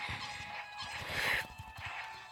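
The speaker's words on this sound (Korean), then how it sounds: "제발 닭들 엄청 많아" Chickens cluck and squawk in a video game, a busy flock of fowl calls layered over steady game background noise, with a brief louder cry partway through.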